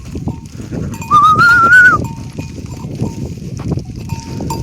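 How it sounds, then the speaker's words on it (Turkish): Cows come downhill to water at a highland summer pasture nearby, with clanking bells and shuffling hoof steps; a brief high whistle-like call rises above the clatter. "Yukarıdan inekler su için bu aşağı geliyorlar"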